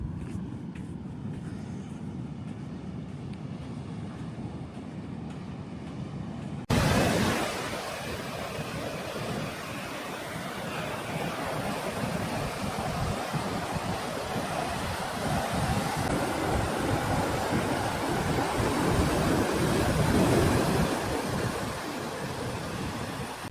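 Pacific Ocean surf on the northern Chilean coast washes in a continuous broadband roar, heavy with wind buffeting the microphone, growing louder after an abrupt jump a few seconds in and swelling with the waves.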